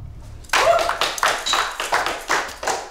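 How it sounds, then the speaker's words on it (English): A handful of people clap in a room in an uneven, moderately paced rhythm. The claps sound close and fairly loud, and a few slow claps trail off at the end. "Please clap."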